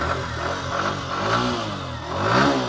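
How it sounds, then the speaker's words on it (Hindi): A Bajaj Pulsar 125 or Hero Glamour X 125 motorcycle engine revs up and down as the throttle is blipped, rising in pitch twice over a rumbling idle, close and fairly loud. "थ्रॉटल देता हूँ,"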